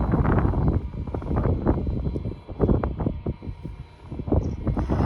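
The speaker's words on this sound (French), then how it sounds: "pardon s'il y a du vent, mais il y a beaucoup de vent en haut là" Strong gusting wind buffets the microphone at the top of a separator on a farm during a sunflower harvest, with loud irregular low rumbling bursts and no voices.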